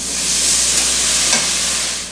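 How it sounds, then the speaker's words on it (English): Beef broth and sherry poured into onion gravy in a hot pan set off a loud, steady, close sizzle with soft stirring, with no talking. "Gradually mix in beef broth and sherry"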